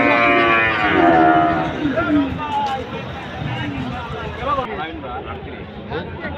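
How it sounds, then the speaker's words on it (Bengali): Holstein Friesian bull mooing at a cattle market at Chatur Hat in Bera, Pabna, with several long, loud, close lowing calls over a steady market babble of voices in the background. "আমরা আর একটি হলিস্টাইন ফ্রিজিয়ান ষাঁড় গরু দেখতে পাচ্ছি।"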